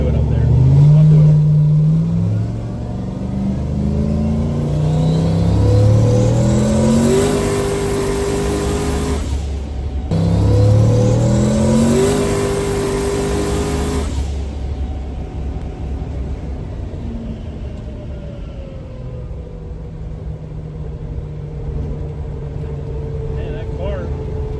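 A 1200 hp turbocharged Mustang launching from a roll on a street, its engine roaring loudly as it revs up through gears in two hard pulls, then easing off, with people talking over the noise.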